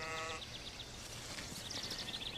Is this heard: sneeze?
no